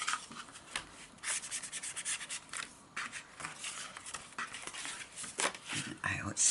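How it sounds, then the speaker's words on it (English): A folded paper crease is rubbed firmly with a burnishing tool in a craft setting, producing close, repeated scratchy strokes in an uneven rhythm. "you can give it a crease. Just burnish it pretty good."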